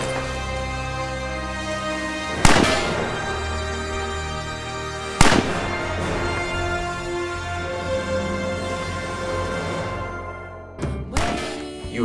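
Gunshots from a comedy web series: three sharp, loud bangs spaced several seconds apart over a steady sustained musical bed, the last followed quickly by a second report.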